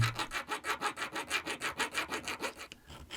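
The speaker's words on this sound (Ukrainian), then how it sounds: "Зводимо кут по центру напилку" A metal file rasps back and forth in quick, regular strokes, about fourteen close scraping passes before it stops.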